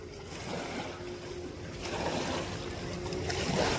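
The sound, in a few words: river water waves of the Ganges at Rishikesh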